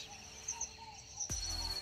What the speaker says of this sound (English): We are near the birds.